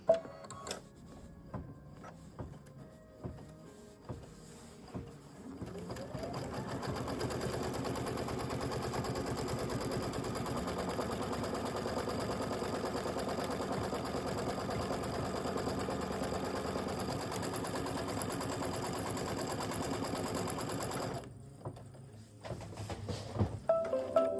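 An embroidery sewing machine stitches steadily while tacking down a zipper pouch, a quiet rapid mechanical chatter running for about fifteen seconds between a few soft clicks and handling noises at the start and end.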